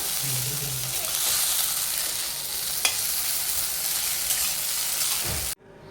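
Kurdai bhaji with coriander being stirred in a hot pan, a steady sizzle with soft scraping stirs throughout, close up, cutting off abruptly near the end.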